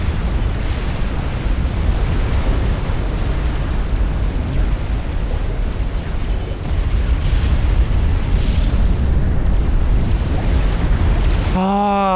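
Aircraft carrier blowing up and sinking in Supreme Commander-style real-time strategy game: sustained, loud roaring rumble of explosions and battle noise running continuously, with a brief tonal sweep at the end.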